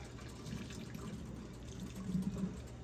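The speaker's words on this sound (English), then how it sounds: "I'm going to pour this hot water off, because it's just making it hot in here." Hot water poured off during homemade herbal lotion bar making, a low, steady wash of liquid pouring into a sink, continuous and fairly faint for about three seconds with no talking.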